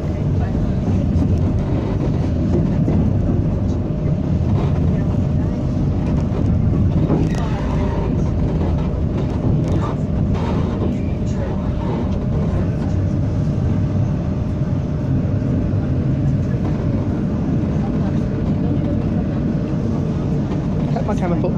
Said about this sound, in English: my train's gonna make a hard right turn in a second now.